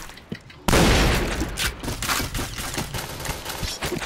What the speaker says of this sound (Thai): ปืนพี่มันลั่น